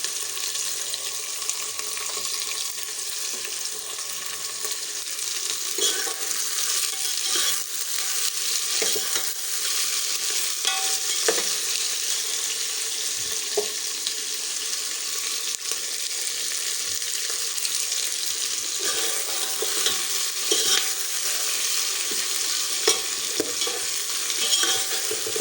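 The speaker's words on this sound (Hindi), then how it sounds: "भिंडी और प्याज फ्राई हो जाएंगे" Okra and onion sizzling steadily in a pan, with scattered scraping and clinking as a spoon stirs them, close and continuous with no talk.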